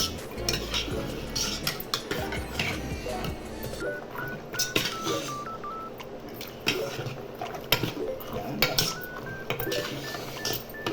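Rajma (kidney beans) being stirred in a pan, with repeated clinks and scrapes of a utensil against the metal, irregular and fairly close, with some quieter stretches between strokes.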